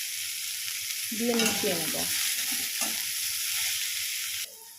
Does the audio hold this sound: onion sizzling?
yes